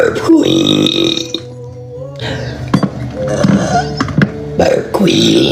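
Deep, drawn-out burps delivered close during a TikTok Live stream, three or four long croaking belches separated by short gaps.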